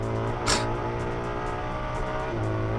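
A race car on a Nurburgring race lap in a video game holds a loud, steady, high-revving engine drone, with a brief burst of tire noise and a slight shift in engine pitch near the end.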